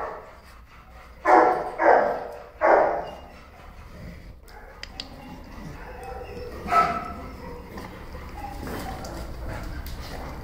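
A dog barks three times in quick succession, loud and close, followed by quieter yips and a softer bark amid light background noise.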